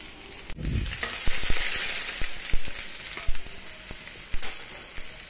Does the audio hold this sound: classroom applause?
no